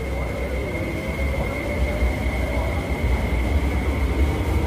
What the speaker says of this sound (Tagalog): Ayan yung train. Sa train yun sa kabila.